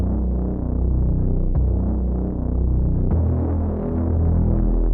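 A dark R&B sample following the root notes, run through a kilohertz distortion plugin, gives a throbbing, humming low drone with a gritty, saturated texture and soft pulses, steady at moderate level with no voices.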